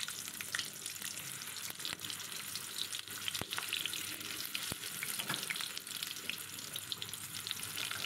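Pieces of teasel gourd with prawns frying in hot oil, a continuous hissing sizzle with crackling pops and a few sharp utensil knocks, no one speaking.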